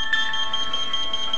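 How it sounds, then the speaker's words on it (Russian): The base unit of an MK-9000 GSM alarm, triggered by a door opening, sounds a steady, shrill electronic siren tone that holds evenly at moderate loudness. "Срабатывает звуковая световая сигнализация базового блока, а на телефон поступает СМС-сообщение"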